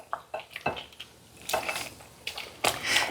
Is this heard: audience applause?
no